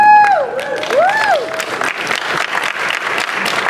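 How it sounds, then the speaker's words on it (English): Convention-panel audience at Midsummer Scream breaks into loud, sustained applause with some cheering, a dense wash of clapping filling the room after a brief whistle-like tone at the start. "I love the applause, Bill."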